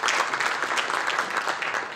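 A conference audience at a Korean policy event claps continuously, a dense, even wash of applause from a sizeable crowd that holds steady throughout the short stretch.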